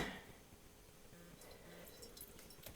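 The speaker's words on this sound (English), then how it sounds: "I heated some olive oil up to 180 degrees, and now we're going to pour that in there." Hot olive oil, heated to 180 degrees, is poured into jars packed with lemons, making a faint, steady trickling and dripping with soft wet squishes in a quiet room.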